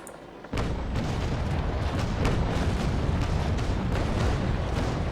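Heavy 12-pounder ship cannons in the naval battle game Naval Action boom in a rapid broadside, a dense string of loud overlapping blasts with rumbling low end rolling on for several seconds after a sudden start.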